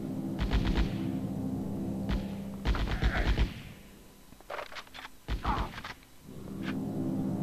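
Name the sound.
gunfire in the video game Die Hard: Vendetta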